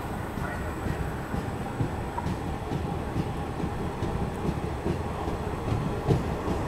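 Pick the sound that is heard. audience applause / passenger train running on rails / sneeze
passenger train running on rails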